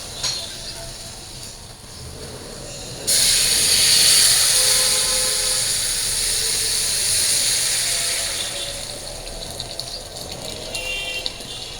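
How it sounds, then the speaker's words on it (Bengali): Water poured into a hot pan of fried onions and paste bursts into a loud, broad hiss of steam that holds steady for several seconds, then slowly fades back to a quieter sizzle. "এবার জল দিয়ে দিই।"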